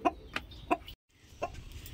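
A heavy five-kilogram country hen clucking close by in a village yard, three short, loud clucks spaced evenly, then a brief silence and one more cluck, with no voices.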